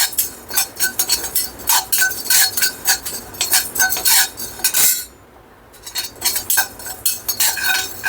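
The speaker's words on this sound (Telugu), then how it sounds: "ధనియాలను కూడా కొంచెం స్మెల్ వచ్చేంత వేపుకుందాం" Coriander seeds being roasted in a pan, stirred with a metal spoon that makes loud, rapid, repeated scraping and clinking strokes, with a brief pause midway before the stirring resumes.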